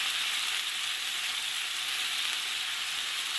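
Beef and onions fry in a pan with a steady, even hiss of sizzling, close but fairly soft, with no talk.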